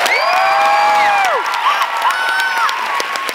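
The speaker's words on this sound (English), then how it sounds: "so if we could give him a round of applause" A crowd at a live fan event on tour in Wellesley, Massachusetts cheers and whoops loudly, with high shouts and claps blending into a dense roar that holds steady for a few seconds.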